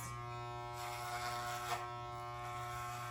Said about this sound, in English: I keep switching hands with my clippers here